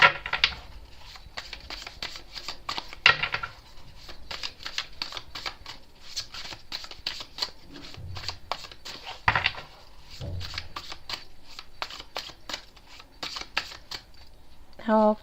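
Tarot cards shuffled and laid out on a table, a long run of rapid papery riffles and flicks with brief pauses and soft card slaps, close and fairly quiet, with no talking over it.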